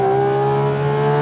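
Porsche Cayman GT4 RS high-revving engine holding a loud, steady, close-up tone with strong sustained harmonics, running alone without talk.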